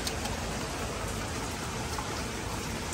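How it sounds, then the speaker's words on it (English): Rain begins falling outside a house during a post-inspection walk-through in Boynton Beach, a dense, even hiss of drops on surfaces, steady and fairly loud with no voices. "Oops, it's starting to rain."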